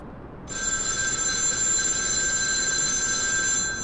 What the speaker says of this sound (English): I was startled out of my wits by the phone ringing again